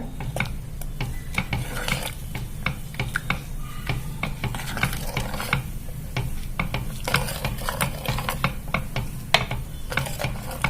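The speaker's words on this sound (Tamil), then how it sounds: "மிக்ஸ் பண்ணி விட்டுக்கோங்க" Steady scraping and clinking of a spoon stirring beetroot kurma with ground coconut in a metal pot, with a soft simmering sizzle underneath; no voices.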